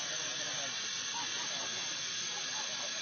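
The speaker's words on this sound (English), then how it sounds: "We're already making steam." Steam hisses steadily and continuously from a Stanley steam car being fired up, a broad, close, unbroken rush.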